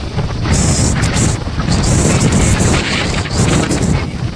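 Steady rain and gusting wind roar close to the microphone outdoors near a bridge construction site, a continuous dense hiss.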